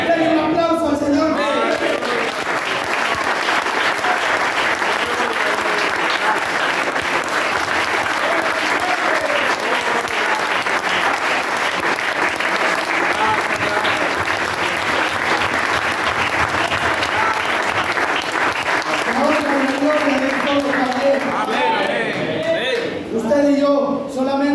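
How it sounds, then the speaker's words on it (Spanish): A church congregation at a service in Catarina, Ahuachapán breaks into sustained, loud applause that fills the room, with a voice speaking over the start and end of the clapping. "Denle un aplauso al Señor."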